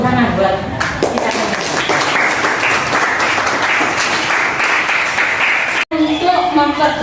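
Classroom students clapping together in a loud burst of applause lasting several seconds, a brief pause, then voices and further clapping.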